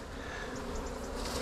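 A dense, even buzz of honey bees swarming close around an open hive, steady and unbroken for a short moment with no voices.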